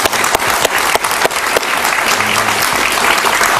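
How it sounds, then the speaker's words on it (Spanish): A studio audience at a televised interview claps steadily throughout, a dense and fairly loud wash of hand claps with a few sharper individual claps standing out and no talk over it. "Un aplauso para el presidente Uribe."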